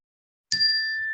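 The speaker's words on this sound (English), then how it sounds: "I'll start with a bell to cue you to start" Meditation bell struck once after a moment of silence, a clear bright ding that rings on with a steady sustained tone, close and clean.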